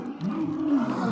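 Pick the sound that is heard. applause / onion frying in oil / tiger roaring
tiger roaring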